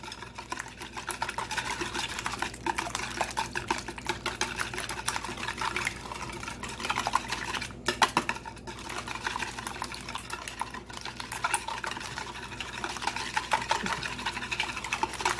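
Batter made with almond milk being mixed in a bowl, a continuous fast rhythmic whisking or stirring that stays close and even throughout, with no speech.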